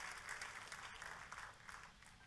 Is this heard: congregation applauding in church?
yes